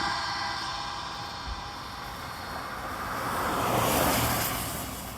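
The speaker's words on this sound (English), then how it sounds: "I wish these cars would stop going by for 10 seconds." Cars drive past on a street outside an opera house in Derby, Connecticut, a broad whoosh swelling loud as one vehicle passes close and then fading, with steady traffic rumble underneath.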